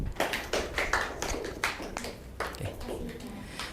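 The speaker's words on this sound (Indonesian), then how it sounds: "mungkin beri aplaus dulu dari kelompok 1" Scattered hand claps from a classroom group of students, uneven and moderately close, with some voices mixed in over a few seconds.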